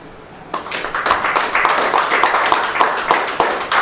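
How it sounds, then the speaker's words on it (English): Audience at an American Legion post show in Jeffersontown, Kentucky, applauding veterans from Navy families; dense, steady clapping from a room of people begins abruptly and holds loud and continuous, with scattered sharper individual claps. "let's hear it by applause if you or your family served in the Navy"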